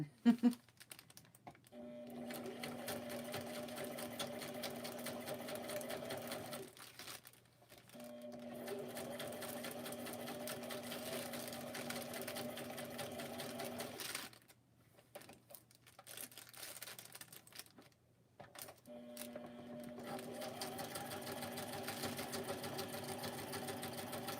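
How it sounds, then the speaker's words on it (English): A sewing machine stitches in several steady bursts with short pauses between, close and fairly quiet. "I have too much stuff on the side of my sewing machine."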